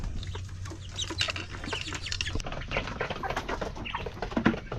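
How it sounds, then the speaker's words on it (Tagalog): Native chicks chirp and peep in quick, busy bursts at close range while pecking at feed, with soft clucking and rustling throughout. "mga native chicks"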